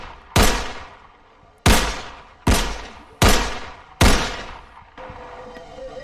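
Five loud, evenly spaced gunshots ring out in the Fractured Mind video game, each sharp crack trailing off into a reverberant decay, followed by a softer sustained tone at the end.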